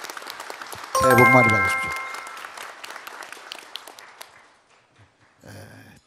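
Audience applause fills a formal New Year gathering with the president and the heads of major companies, a dense clapping wash running throughout and fading near the end, mixed with a chime and overlapping speech.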